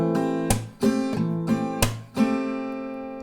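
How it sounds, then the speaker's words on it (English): Acoustic guitar strummed through a single round of the pattern, with about half a dozen distinct down and up strokes that ring clearly in a moderate rhythm, with no voice present. "then 1 strumming round will sound like this."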